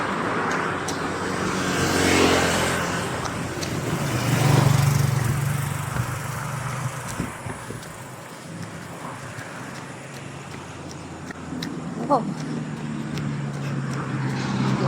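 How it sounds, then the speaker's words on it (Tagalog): A car passing on a rural road, a broad engine and tire rumble that swells and fades over several seconds amid outdoor ambience and wind, with a brief voice heard once. "Yung sasakyan."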